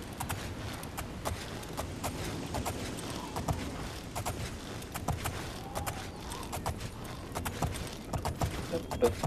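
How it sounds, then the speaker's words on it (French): Horse hooves clip-clop along a path in the video game The Elder Scrolls IV: Oblivion, with steady, fairly faint steps and some creaking over a low rumbling background. "Se promène à dos du cheval"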